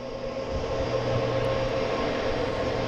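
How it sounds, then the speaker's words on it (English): A JetBlue airliner arriving from Newark at Boston Logan International Airport, a steady broadband engine roar with a low drone, sustained and moderately distant, with no talking. "We got a JetBlue coming in from Newark."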